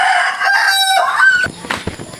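A chicken crows loudly nearby in a long harmonic call, followed by rustling and a few short clucks.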